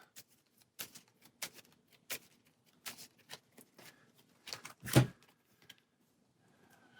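A deck of Hero Realms cards being shuffled by hand: quiet, irregular papery taps and flicks spread across the stretch, with one sharper, louder slap near the end and no one talking.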